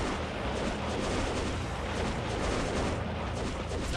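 Mortar artillery fire in the video game Kingdom Under Fire, a loud continuous roar of thudding blasts and rumble with no clear gaps.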